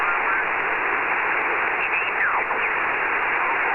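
Steady hiss of band noise from a Yaesu FT-857D transceiver in field operation, loud and continuous throughout, with faint whistling tones sliding briefly near the end and no speech.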